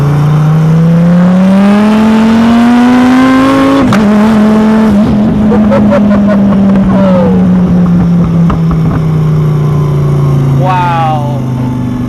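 Car accelerating hard in second gear, the loud engine note climbing steadily, then dropping and climbing again through repeated revs, with a person speaking over it.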